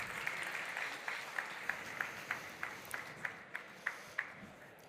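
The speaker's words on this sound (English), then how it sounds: "a warm applause, please." Audience applause at a travel-technology executive panel as guests are welcomed onto the stage: quiet, steady clapping from a crowd with faint regular taps running through it, no speech over it.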